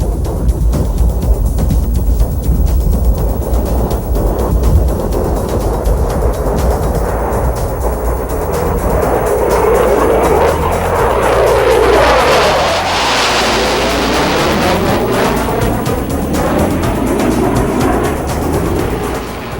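A Night Attack Hornet military jet aircraft flies past with a loud, sustained roar that swells to a peak and then drops in pitch as it passes and recedes, with a heavy rumble underneath.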